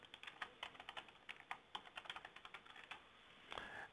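Rapid, even keystrokes on a computer keyboard while a password is entered, around twenty quick clicks in a steady run, faint and close, no voices.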